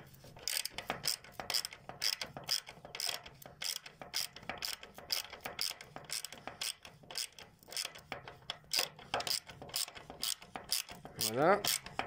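A clamp on a stove flue pipe liner is tightened with rapid, steady ratcheting clicks that continue through the whole stretch. The sound is close and moderately quiet, and a brief tonal squeak comes near the end.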